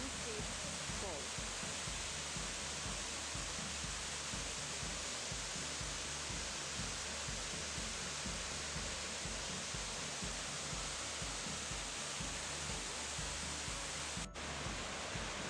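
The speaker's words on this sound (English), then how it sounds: "here we are at the famous King Creek Falls." Kings Creek Falls in Lassen Volcanic National Park pours with a steady, unbroken rushing roar of falling water, constant and close throughout.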